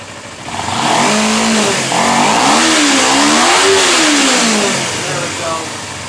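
A 2011 Kawasaki Ninja 250 motorcycle engine revs repeatedly toward its redline, its pitch sweeping up and down in several loud, close blips before settling back, with a voice talking over it.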